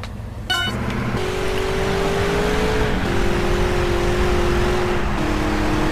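Race car in GTA San Andreas, its engine droning loud and steady with rising revs and gear shifts over continuous road noise, no talk.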